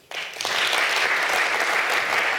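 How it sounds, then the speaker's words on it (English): Audience applause for panelists at a transport innovation talk, breaking out abruptly and continuing as a dense, even clapping from a sizeable crowd. "please give a round of applause to our panelists"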